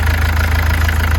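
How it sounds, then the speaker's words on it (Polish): A 2012 Mercedes Sprinter engine idles loud and close after starting with its belt removed, a steady low rumble with a regular pulsing knock throughout. "Tym razem już odpaliłem silnik tutaj bez paska."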